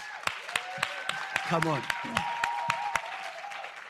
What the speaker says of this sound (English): Can you just give our entrepreneurs that pitched a round of applause?